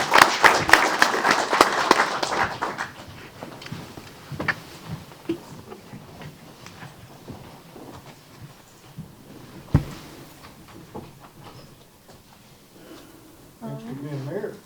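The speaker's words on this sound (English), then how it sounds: "Let's give him a round of applause." Applause at a ceremony naming an honorary mayor for a day in Temple Terrace, Florida: a loud burst of clapping at the start that fades quickly, followed by scattered sounds and brief voices.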